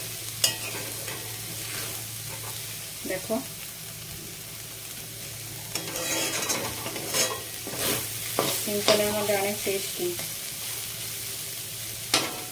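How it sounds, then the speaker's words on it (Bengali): Banana flower frying in a pan with oil and cardamom, a steady sizzle under repeated scraping stir strokes, close and fairly loud, with a brief spoken remark partway through. "দেখো হয়ে গেছে আমার ফ্রাই কলার মোচাটা ভাজা।"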